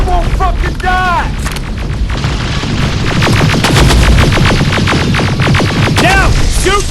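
Heavy gunfire in the Terminator: Resistance video game, dense rapid bursts and booming blasts layered over rumbling combat noise, loud and continuous, with shouted voices mixed in.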